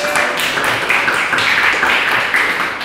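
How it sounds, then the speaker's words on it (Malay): A class of students applauds together in a classroom, a dense, steady patter of many hands clapping at close range that fills the whole stretch without pause. "bagi tepukan"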